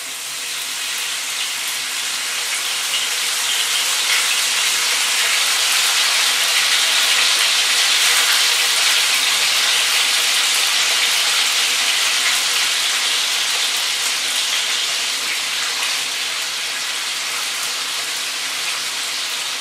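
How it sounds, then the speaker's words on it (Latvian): Pork fillet rubbed with olive oil and pepper fries in hot oil, giving a constant, loud, hissing sizzle that swells slightly and holds steady for about twenty seconds with no voices. "Pēc tam to visu gaļiņu ņemam pēstā eļļā."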